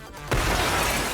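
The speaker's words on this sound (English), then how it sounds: "Crash. The ceiling shatters" A ceiling shatters with a sudden loud crash in the Nikke: Goddess of Victory story, a sharp breaking burst followed by a sustained roar of falling debris and rumble, close and full, with no speech.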